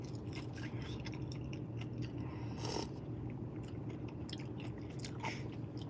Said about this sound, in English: The hash brown, which is my favorite part. Oh, still crunchy.